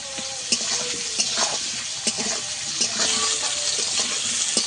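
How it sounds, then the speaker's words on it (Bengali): Sliced potatoes and onions fry with salt in a pan, giving a steady sizzle broken by regular scrapes and clinks of stirring. "লবণটা দিয়ে আমি ভালো করে আলুটাকে ভাজবো।"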